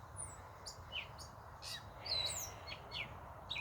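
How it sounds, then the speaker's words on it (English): A gray catbird sings outdoors in thin, scattered chirps and whistled phrases, faint and somewhat distant over a low, steady background hum. "listen to that wonderful bird. I hope you can hear it. I think it's a catbird."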